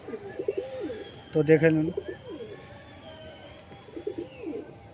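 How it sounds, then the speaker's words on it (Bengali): A pair of adult Giribaz pigeons and two young chicks coo in soft, rolling bursts, close by, and someone briefly speaks over them partway through. "এই দুটো ধাড়ি পায়রা, এই দুটো বাচ্চা পায়রা।"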